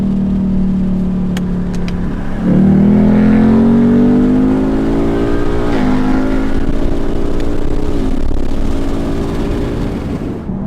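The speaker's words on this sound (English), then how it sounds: "That downshift was just fine." A Ford Mustang GT with a 10-speed automatic downshifts and accelerates. The loud, close engine hum jumps in pitch at the downshift, then climbs steadily through the revs with a brief dip partway.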